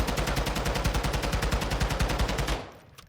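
A TAQ-56 assault rifle in Modern Warfare 2 fires one sustained automatic burst of rapid, evenly spaced shots, loud and close, before cutting off into a short decaying tail.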